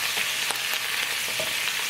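Garlic fries on low heat in bacon fat, making a steady, dense close sizzle with a few soft pops and taps on top, with no voices.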